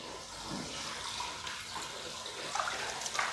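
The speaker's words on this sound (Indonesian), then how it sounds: "baru kita bilas dengan air yang tadi, kita bilas lagi" Water poured over a Persian cat during a bath indoors without a blower, a steady close splashing and running stream with brief louder gushes near the end.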